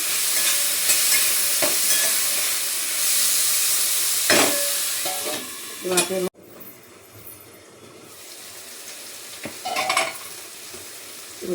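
Methi greens and red pumpkin bhaji being stirred in a kadhai, with soft sizzling under scattered scraping spoon strokes and clinks of the pan, quieter after a pause midway.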